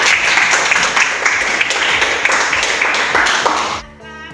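A class claps for group 3 in a school lesson, a dense burst of applause from students nearby that cuts off near the end.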